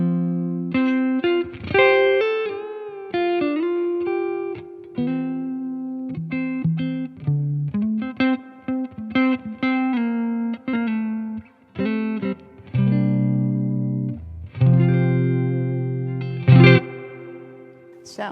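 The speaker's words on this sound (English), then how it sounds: "Let's bring in their reverb, see how accurately it splish-splashes." Electric guitar played through the reverb of a Fender Tone Master Deluxe Reverb amp: clean chords and single notes ring out with a splashy spring-style tail that decays between phrases, loud and close, with no talking.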